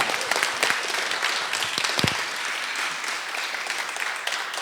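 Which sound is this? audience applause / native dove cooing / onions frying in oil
audience applause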